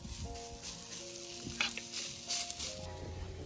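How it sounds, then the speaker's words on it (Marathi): Chopped onion frying in a pan for a village-style spicy drumstick curry, a close, steady crackling sizzle with faint stirring and light clatter of utensils, no voices. "आता सगळ्यात शेवटी मी कांदा ऍड करते. तर कांदा आपल्याला छान असा व्यवस्थित भाजून घ्यायचा आहे."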